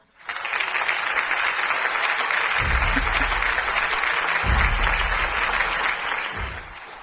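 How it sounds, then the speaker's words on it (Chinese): Enthusiastic applause from an audience at an award ceremony greets a lifetime contribution award winner. Dense, loud clapping swells in quickly and holds steady for several seconds, with low thumps underneath and no voices. "接下来，让我们以最热烈的掌声，欢迎本届终身贡献奖得主。"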